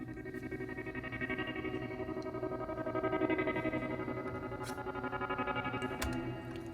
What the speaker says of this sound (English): what that does is it gives us this really cool reverse effect.